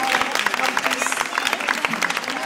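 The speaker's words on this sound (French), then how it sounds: "Ces applaudissements, c'est un prodige de l'édition qui sont adressés" A festival audience applauds a 19-year-old publisher with a dense, continuous clatter of many hands, loud and sustained from start to finish.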